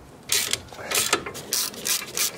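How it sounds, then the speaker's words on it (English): Wrench ratcheting on brake caliper bolts of a Ford Taurus, a series of about five bright metallic clicking bursts in close succession, near and fairly loud with no talk. "you just grab a regular wrench and loosen up these bolts"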